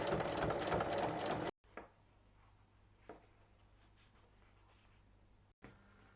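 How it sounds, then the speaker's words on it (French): Sewing machine stitching along a fabric fold while making a vertical pouch, a loud fast rattling run of stitches for about a second and a half, then quiet handling clicks and a brief restart at the end. "on vient piquer dans le pli qui est formé sur toute la longueur"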